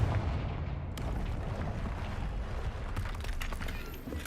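The Confringo blasting spell in Hogwarts Legacy detonates with a sharp crack followed by a heavy booming explosion and rumbling debris, loud and dense across the whole clip.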